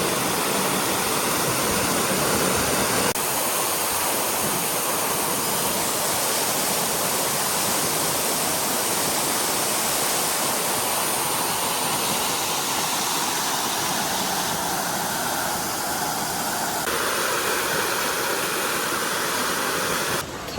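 A waterfall in Umpqua National Forest roars steadily up close, a dense, continuous rush of falling water that stays loud and unbroken throughout.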